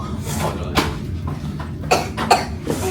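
Young girl coughing while on a swimming outing at a hotel, several short dry coughs spaced across a few seconds over a busy background hum.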